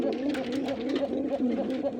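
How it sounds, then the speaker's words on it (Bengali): A female Rasgolla pigeon, a local deshi breed, coos close up in a quick repeating rhythm of throaty, rolling calls, several in a row. "আমি মাদিটা দিচ্ছি, দেখেন কেমন পাগলের মতো ডাকে।"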